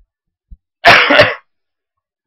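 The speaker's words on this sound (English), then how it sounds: "I really want to apologize for the coughing." A single harsh cough bursts out close to the microphone, short and loud, bracketed by faint clicks in otherwise near silence.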